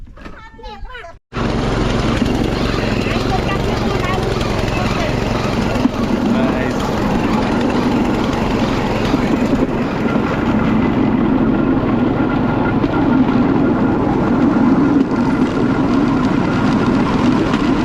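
Battambang bamboo train in Cambodia running on its rails: after a brief quiet start, a loud, steady engine drone and rolling rattle begin abruptly and carry on evenly to the end.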